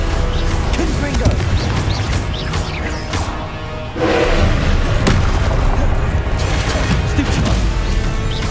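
Confringo spells blast off in Hogwarts Legacy combat, with loud booms and crashing thuds mixed into dense game noise and shouted spell names.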